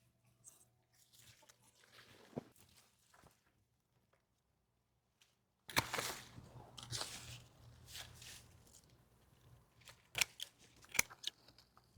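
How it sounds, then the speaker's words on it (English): Pruning shears snip through grapevine stems in sharp, crisp crunching cuts, several scattered clicks and snaps close to the microphone with a quiet gap in the middle. "So I'm literally just cutting the stems off where I feel like they should be"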